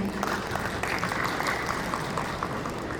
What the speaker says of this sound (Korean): 네, 다시 한번 큰 박수 보내주시기 바랍니다.